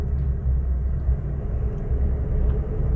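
A car cruises in second gear, its engine giving a steady low rumble heard from inside the cabin, even and unbroken throughout with no talking.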